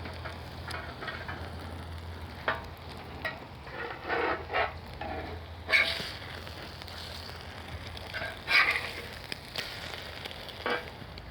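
Food sizzles on a griddle in a steady, faint crackling hiss, with louder spatters and scraping bursts popping up irregularly; no talking.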